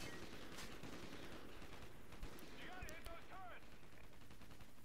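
Sniper gunfire in the Call of Duty Ghosts campaign crackles as faint, sharp shots over a steady wash of battlefield noise, with brief chirping game tones partway through.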